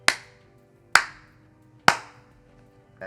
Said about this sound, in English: You clap 3 times and you can sync the audio together